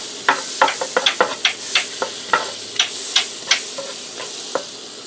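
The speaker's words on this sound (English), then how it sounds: "I'm going to give that a quick stir, and I'm going to add just a tiny little bit of olive oil because my butter's starting to scorch" Butter and olive oil sizzle in a skillet for pork chops while a utensil stirs, giving a string of sharp, close scrapes and clicks over a steady frying hiss; no voices.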